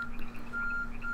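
In-game five-minute timer in Wurm Unlimited sounding a thin, steady electronic beep tone, faint and continuous with a faint hum underneath.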